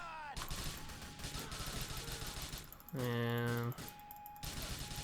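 Gunfire in the video game GTA IV: The Lost and Damned crackles in fast bursts over a continuous game backdrop, with a sustained tonal buzz partway through and a brief spoken word.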